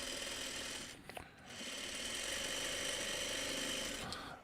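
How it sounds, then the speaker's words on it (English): Sewing machine stitching crumbs and crumb tape together, a steady buzzing whir close by that pauses briefly before resuming its continuous run. "I'm sort of sewing crumbs and sort of sewing crumb tape at the same time."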